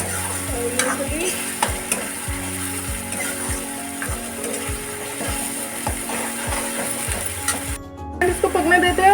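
Masala with tomato puree and peanuts frying for a paneer curry, a loud close sizzle under a regular rhythm of stirring strokes or clicks, with faint background voices.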